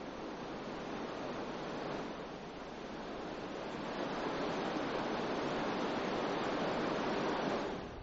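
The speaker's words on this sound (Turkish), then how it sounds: "Tomara şelalesinin 20-30 metre yükseklikten aşağılara dökülen süt rengindeki suyu, kulağa hoş gelen namelerini birkaç kilometreye yayar" Steady roaring rush of the Tomara waterfall in Gümüşhane, milky water dropping 20-30 metres, a dense continuous wash of noise that swells slightly midway, with no voices.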